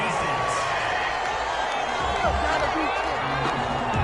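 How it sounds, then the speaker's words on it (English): Stadium crowd in a PS4 video game football match reacting to a penalty flag on third down, a steady, dense roar of displeasure with scattered whoops and shouts filling the whole stretch. "Well, the crowd doesn't like that."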